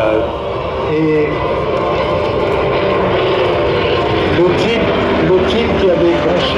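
An F4U Corsair, a heavy single-engine propeller warplane, drones past at the Paris Air Legend 2021 air show with a steady, loud engine roar, while someone talks over it.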